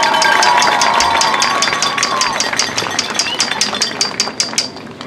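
A stadium crowd at a high school varsity football homecoming game applauds and cheers for the homecoming court, broad crowd noise with a steady train of sharp, evenly spaced claps and a public-address voice heard in the mix.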